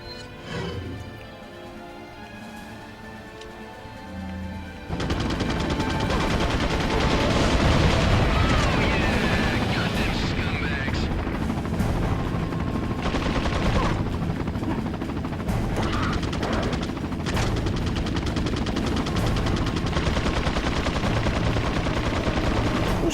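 Sustained video-game gunfire in Resident Evil 4 on PS2, loud rapid shots and bursts that start abruptly after a quieter opening and continue densely over background game noise, no voices.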